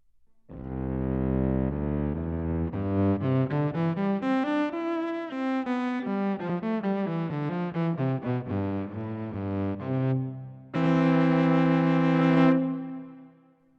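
A violin played through a Line6 Helix octave preset with a cello impulse response gives a deep, thick bowed tone with rich harmonics, a steady run of sustained and moving notes, then a louder held chord near the end, alone and close.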